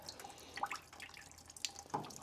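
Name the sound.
excess water draining from a tankless water heater into a bucket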